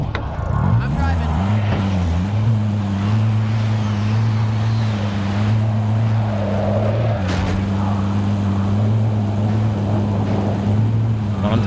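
Vehicle driving in Call of Duty Warzone, a steady engine drone with a low hum holding throughout, loud and continuous while a player talks over it.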